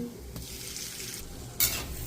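Turmeric powder and salt dropped into hot oil in a wok sizzle steadily, with a stirring scrape and a brief sharp crackle near the end, for frying catla fish.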